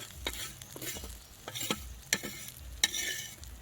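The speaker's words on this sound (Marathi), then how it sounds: "दुसरे पण 2 पापलेट आहेत ते टाकून घेते." Pomfret fish frying in a pan during outdoor cooking in a forest, with a low sizzle broken by a few sharp scraping and clinking hits of a utensil against the pan, fairly quiet and close.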